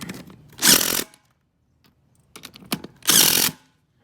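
Bead lock bolts on a RZR wheel are tightened in two bursts of an impact tool's whirring rattle, with a few clicks and small mechanical knocks between them, close and fairly loud.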